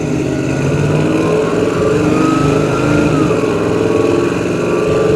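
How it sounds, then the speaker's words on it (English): A 1972 Chevrolet C10 pickup's engine rumbles steadily with a deep exhaust note through headers and dual Flowmaster exhaust, idling and pulling away on gravel at close range, loud and continuous throughout. "Exhaust sounds good. Has a nice set of headers, dual exhaust into a Flowmaster"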